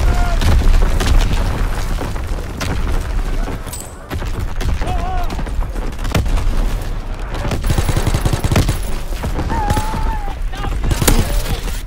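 Incoming enemy artillery and gunfire in the Call of Duty: WWII video game, with repeated booms and bursts of shooting over a dense, loud battle din, with radio-style voices calling out.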